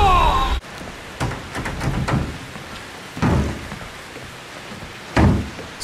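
Rain falls in the video game Outlast 2 beside a building: a steady, hissing wash with several low thumps and bursts scattered through it, and no voices.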